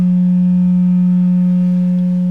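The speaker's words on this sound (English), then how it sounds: "So I've got a tone going through, you can probably hear that in the background, a lowish frequency." A steady, low test tone hums loud and unbroken through a Marshall Silver Jubilee 50W guitar amplifier with a low output and distortion fault, with faint harmonics above it and no other sound.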